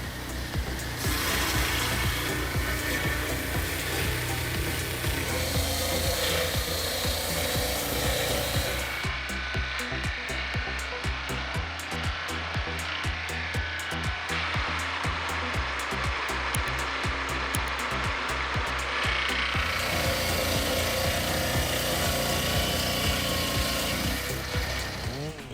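Hand saw working through aged wood parts, a steady rasping rub that runs continuously and loudly from start to finish, with a slightly shifted, grindier stretch through the middle.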